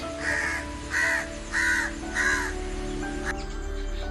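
A crow caws four times in an even rhythm, close and fairly loud, and then goes quiet. The calls are heard outdoors during birdwatching, and no one talks.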